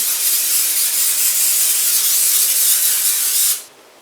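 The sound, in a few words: cooking spray on bundt pan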